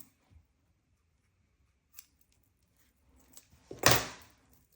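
Scissors snip needle felt on a twisted ice lolly craft, with a few faint clicks and then one clear, close crisp cut.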